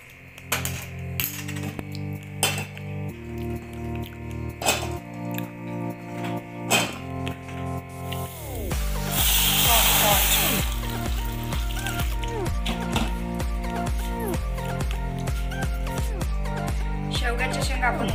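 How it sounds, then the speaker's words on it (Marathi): Moringa drumstick pods are dropped into a pot of water to boil, giving a short watery splash and pouring rush of about two seconds, set against background music. "चला तर सर्वप्रथम आपण या शेवग्याच्या शेंगा थोड्या पाण्यात उकडायला टाकणार आहोत"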